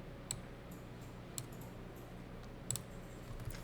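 A computer mouse clicks quietly and sparsely during accounting software practice, with a few faint, sharp clicks spaced about a second apart and a quick double click near the end, over a low steady room hum.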